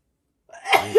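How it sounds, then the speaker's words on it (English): A single loud human sneeze bursts out after about half a second of silence, with a sharp breathy onset and a voiced tail, close to the microphone. "That was a big sneeze."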